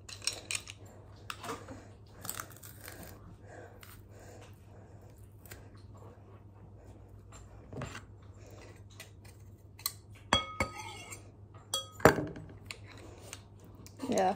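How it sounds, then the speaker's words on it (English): Garlic being crushed in a metal garlic crusher in a home kitchen: sparse, faint metallic clicks and squeezes, with a few sharper clanks near the end, over low room hum. "I'm just gonna crush this garlic with the garlic crusher"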